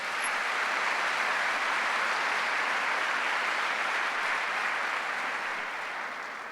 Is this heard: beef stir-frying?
no